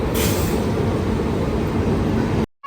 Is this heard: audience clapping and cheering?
no